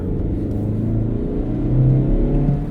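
A Mazda 3 with a six-speed manual gearbox, running on winter tires, accelerates from inside the cabin. Its steady engine drone rises in pitch, with harmonics climbing, over a constant low road rumble, loud and continuous throughout.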